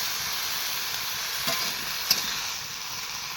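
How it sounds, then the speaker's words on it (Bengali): Potatoes, carrots and spinach fry in a pan with a steady, close sizzling hiss that holds throughout, with a couple of brief stirring clicks partway through. "তো এগুলো আমি একটু ভালো করে ভাজা করে নেবো।"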